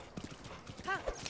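Horses trot in the video game Zelda: Breath of the Wild, with a few soft clip-clop hoofbeats and a brief whinny-like tone, faint and mixed with light talk.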